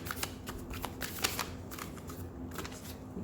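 A deck of tarot cards is shuffled close up, giving a steady soft rustling and riffling with small flicks throughout and no voice over it.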